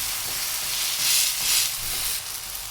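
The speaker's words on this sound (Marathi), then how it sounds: "असं प्रेस करते जेणेकरून कांदा टोमॅटो आपला छानसा भाजेल." An onion and tomato uttapam sizzles steadily on a hot pan as it is pressed down: a loud, continuous frying hiss that swells and eases slightly, close up with no talking.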